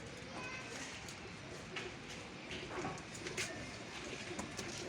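Pigeons at a pigeon-keeping club cooing softly in the background, faint low calls under a noisy outdoor mix with people talking nearby.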